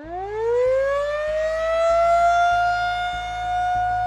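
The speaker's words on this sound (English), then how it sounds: "Why are the sirens going off?" A wailing Minecraft siren rises steeply in pitch and then holds a steady, loud tone, with a faint regular ticking pulse underneath.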